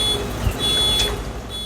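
An electronic alarm beeps with a steady high-pitched tone during flooding in Queensland, Australia, cutting in and out over a constant low rumble of background noise.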